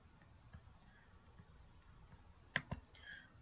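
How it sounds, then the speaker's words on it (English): Mouse clicks on an OK button in SAS software: a quiet, close double click stands out sharply from faint room noise, followed by a little soft desk noise. "let us click on OK"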